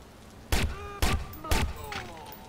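Sniper rifle fire in the video game Watch Dogs, three sharp, loud shots spaced about half a second apart, each leaving a short ringing tail, followed by a fainter fourth report.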